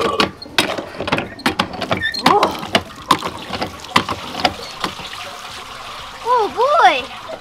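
Running water at a pumpkin patch wash station splashes and trickles as a pumpkin is washed, with handling knocks and scrapes, a short squeaky tone near the end, and moderately loud, close sound.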